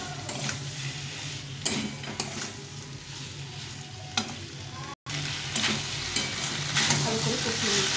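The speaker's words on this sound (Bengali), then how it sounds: "এখন এই আলু আর ফুলকপিটা দিয়ে দেবো, দিয়ে একটু হালকা করে কষিয়ে নেব।" Potato and cauliflower pieces frying in spiced oil, a steady close sizzle broken by repeated scraping stirs of a spoon in the pan, with a brief cut near the middle and no talking.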